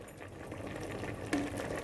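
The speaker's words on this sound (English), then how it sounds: "So this is bubbling nicely" Prawn and noodle laksa curry simmering in a pot, a steady close bubbling and soft popping that runs throughout, with a brief clink near the end.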